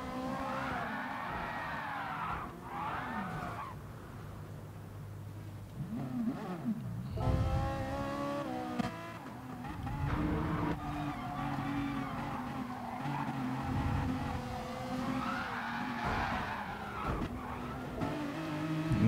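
A race car in the GT Sport video game hits the curbing and slides sideways with long tire squeals, engine revving and dropping as it recovers, loud and continuous throughout.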